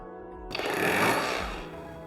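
A cordless rotary hammer drills into red brick, starting abruptly with a loud, dense grinding and rattling roar that swells and then gradually eases over about a second and a half.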